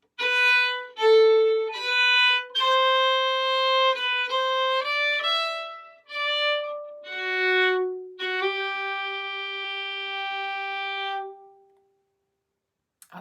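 Fiddle plays the closing phrase of the B part of the beginner tune Shoe the Donkey, a string of clear bowed notes ending on a long sustained tone, close and solo with no talking.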